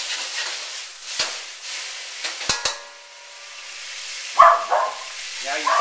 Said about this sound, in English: You can hear the poodle barking in the background.